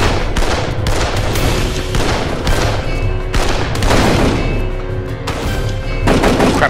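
Sustained gunfire in the video game Darkest of Days during a prison break mission, loud rapid shots and bursts layered with booms, continuous across the whole stretch.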